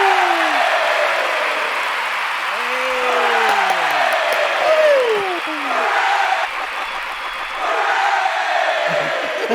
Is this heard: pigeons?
no